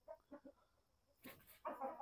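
Chickens being fed give short soft clucks, then a louder burst of overlapping calls, close by and quiet overall.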